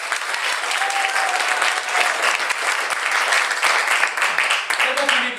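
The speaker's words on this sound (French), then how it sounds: "donc on va faire un petit test d'applaudissements" A TV studio audience claps loudly on cue during a warm-up applause test before a show, producing sustained, dense applause that stays near and even throughout, with faint voices mixed in underneath.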